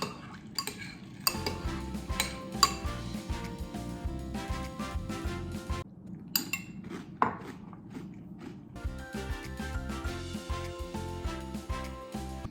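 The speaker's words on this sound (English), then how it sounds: "Give it a good stir." A spoon stirs chocolate puffed cereal in a bowl of milk, giving close, steady clinks and scrapes against the bowl with a brief pause midway, with no talk over it.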